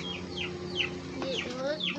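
A chicken clucks repeatedly in short, rhythmic calls at moderate distance, mingled with a few higher bird chirps and a low background murmur of human voices.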